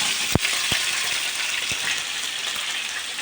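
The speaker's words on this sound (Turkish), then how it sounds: "Şöyle bacakları biraz daha kızartalım." Steady sizzling and spattering of chicken legs frying in a hot pan, with a few soft knocks, continuous and fairly close.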